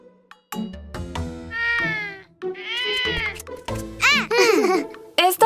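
An animated cartoon cat from the children's show Wolfoo meows repeatedly, with bright, rising and falling high-pitched cries in quick bursts, loud and close, with short pauses between calls.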